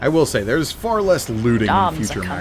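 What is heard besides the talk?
No everyday noise stands out behind the speech.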